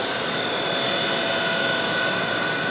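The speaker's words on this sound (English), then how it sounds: "The helicopter should not make spontaneous yaw movements." A helicopter drones steadily and loudly nearby, its continuous engine whine and rotor noise filling the whole stretch without pause, while its tail kicks around with unwanted yaw movements.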